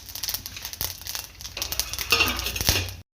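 Mustard seeds, cumin and urad dal dropped into hot oil in a pan, giving a dense crackle with small clinks and rustles, rising into a brief sharper sizzle near the end before cutting off.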